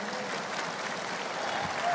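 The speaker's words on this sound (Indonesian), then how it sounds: "Tepuk tangan untuk Pak Anies." Dense, steady clapping from an audience applauding Anies, a continuous even wash of many hands with no voices standing out.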